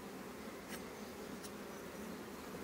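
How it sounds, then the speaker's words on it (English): Honey bees drone in a steady, dense buzz at an open hive outdoors beneath a hickory tree, continuous and close, with a couple of brief higher whirs passing by. "That bee is trying to kill that one."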